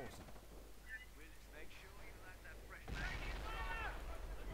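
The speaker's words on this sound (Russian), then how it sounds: "по мне стреляют" Gunfire in the Battle of Crete mod on the Heraklion airfield map rumbles faintly in the distance. Someone talks over it, and the firing swells louder near the end.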